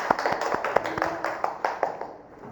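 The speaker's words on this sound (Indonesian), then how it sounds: "tepuk tangan semuanya" A school class claps in a classroom: scattered, uneven claps and taps from several hands, fairly close, with voices talking over them.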